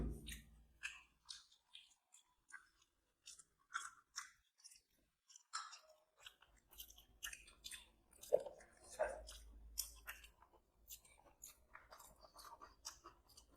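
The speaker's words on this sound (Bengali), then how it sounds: "ধোসা খাই, মশলা ধোসা।" Wet, close chewing and crunching while eating masala dosa, steady rhythmic bites and mouth sounds repeated over several seconds with a faint voice in the background.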